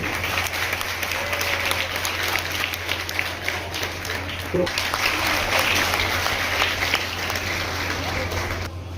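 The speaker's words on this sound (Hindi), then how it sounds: "जोरदार ताली हो जाए" Parents and guests at a school admission festival break into vigorous applause, a sustained, loud rattle of many hands over a steady low electrical hum, with some voices mixed in.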